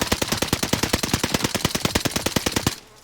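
Rapid automatic fire from an Owen gun in Warzone Pacific, a steady burst of evenly spaced loud shots lasting nearly three seconds before cutting off into quiet.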